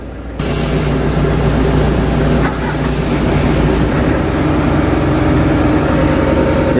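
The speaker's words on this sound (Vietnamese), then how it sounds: "Giờ nổ máy bò vô." The loud, heavy diesel engine of a Sumitomo S260 excavator starts up and runs steadily as it crawls forward, a dense rumbling drone with a low throb, continuing without pause.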